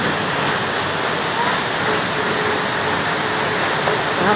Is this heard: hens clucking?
no